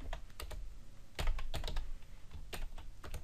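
Code being typed on a computer keyboard for a Unity 3D game script, with quick irregular bursts of key clicks and a few louder taps, close and quiet with no talking.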